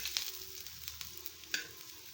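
Thick potato slices sizzle and fry in a pan on low heat, a faint steady crackle with a few soft scraping stirs as they are turned, no voices present.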